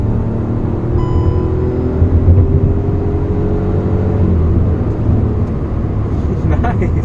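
A Hyundai i20 N Line hatchback's engine revs up to 6,000 RPM with a rising whine that tops out and settles into a steady cabin rumble, while someone briefly speaks over it.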